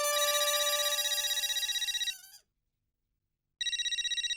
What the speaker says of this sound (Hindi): मैं अभी भिड़े अंकल को फोन करता हूँ।